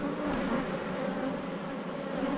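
Honey bees buzz steadily inside an opened Australian apiary hive, a dense, continuous drone of many insects close by with no talking.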